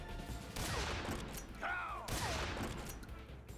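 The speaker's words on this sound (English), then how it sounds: "he uses his ninja magic to make a Tommy gun that he just kind of shoots us with repeatedly" A Tommy gun in Metal Gear Solid 3: Snake Eater fires repeatedly in two sustained bursts, with a whistling tone between them and no one talking.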